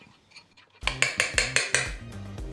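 A spoon mixing garlic, salt and pepper in a bowl gives about six crisp, evenly spaced clinks and scrapes, close and fairly loud, after a quiet start.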